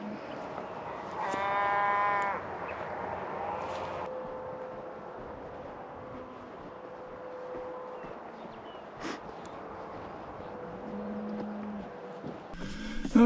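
Cows low and moo around an open field, several drawn-out calls rising out of a quiet outdoor background, one louder and close, others fainter and spread apart.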